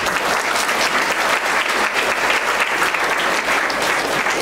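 Dense, steady applause from an audience at a college academic excellence awards and parents-teachers meeting, loud and close, sustained evenly throughout without pause.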